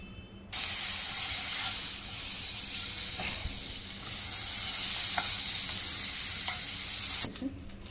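Butter frying in a hot pan before eggs go in for butter masala egg fry, a loud continuous sizzle that starts abruptly, holds for several seconds with a few soft clicks, then cuts off.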